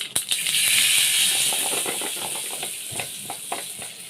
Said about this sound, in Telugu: తాలింపు వేగింది కదా, దీన్ని మనం ఇప్పుడు చట్నీలో పోసుకుందాం.